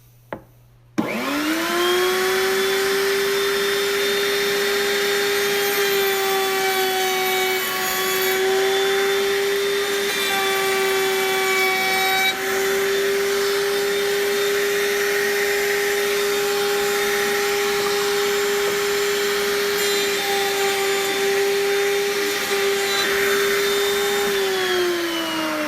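A router table motor spins up and runs steadily at high speed while cutting wood, a loud sustained whine with a stable pitch and faint fluctuations as the bit engages the workpiece, no voices.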